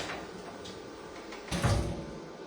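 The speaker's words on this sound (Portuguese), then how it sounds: "deixa eu fechar a porta aqui" An indoor door is pushed shut, a soft swish and then a dull, low thud near the end, fairly close in a quiet room with no talk.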